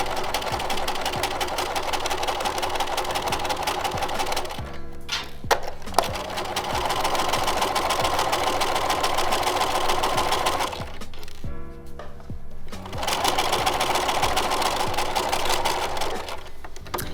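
A sewing machine stitches a Hong Kong seam finish along a seam allowance in long, steady, close runs of rapid mechanical whirring, broken by two short pauses with clicks between runs.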